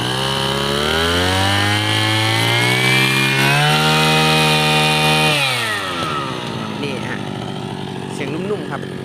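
A Mitsubishi TL33 brush cutter's small two-stroke engine idles and revs steadily, its buzzing pitch rising then dropping back to a softer idle, with a voice speaking over it.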